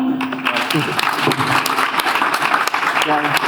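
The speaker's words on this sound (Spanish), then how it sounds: "Fuerte aplauso, por favor." A conference audience at a startup investment event in Spain applauds steadily, with a voice speaking over the clapping.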